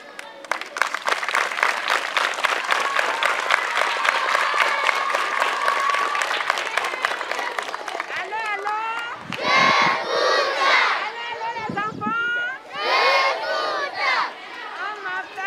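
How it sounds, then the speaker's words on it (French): Crowd at a Togolese association of disabled women's event breaks into sustained clapping, then loud ululating cheers and shouts of acclamation welcoming a woman, with bursts of voices rising and falling near and dense. "Lorsqu'elle va se présenter, accueillez là avec une grande acclamation"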